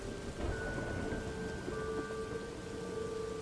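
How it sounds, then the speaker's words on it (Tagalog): Steady heavy rain pouring down with low rumbles of thunder beneath it, a continuous dense wash of noise with no voices. "May tumatalbog na mga tunog sa bubong at dahil ito sa malakas na patak ng ulan noon."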